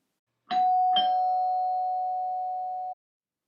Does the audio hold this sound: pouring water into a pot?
no